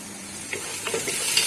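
Chicken browning in a pan gives off a steady, moderate sizzle, with a few faint stirring scrapes near the end.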